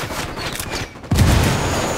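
Gunfire and a grenade blast in a Ghost Recon Wildlands firefight, with scattered shots building to a loud low burst about halfway through, then sustained heavy rumbling gunfire close by.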